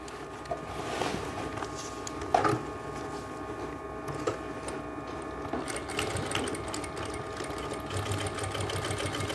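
A sewing machine runs steadily, stitching a full-flare umbrella skirt, its close, even mechanical whirr continuing alone without pause.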